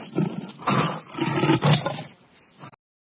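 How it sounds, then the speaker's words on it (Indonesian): A lion roars in several loud, rough pulses that rise and fall over a few seconds, then trail off into a short final grunt, heard alone and close. "Singa."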